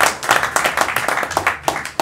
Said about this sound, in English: you may applaud for this gentleman